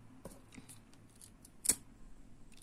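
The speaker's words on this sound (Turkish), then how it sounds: "Baş kısmını da hemen kesiyorum." Scissors snip the end of a crystal bead craft project, one short sharp cut standing out close and clear over a quiet room, with a few faint handling taps around it.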